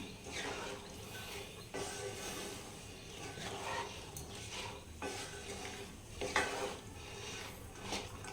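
Boiled chickpeas being stirred and fried with masala in a pan over raised heat, with steady scraping and clinking of a spatula against metal under a soft sizzle, close by.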